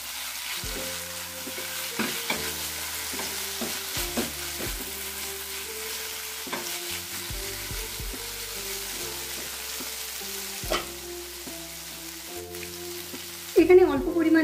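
A pan of spices being stirred with dried fenugreek leaves (kasuri methi) for a Rajasthani tinda curry, giving steady scraping and stirring strokes over a low sizzle, with a louder clatter near the end.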